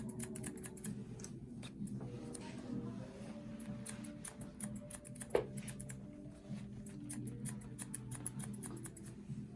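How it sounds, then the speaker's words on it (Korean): Thinning scissors snip through a man's hair during a base cut in a salon, giving a run of quiet, crisp clicks at an uneven rhythm, close and faint. "숱이 좀 많이 나가는 틴닝을 이용해서 베이스 커트 먼저 하고요"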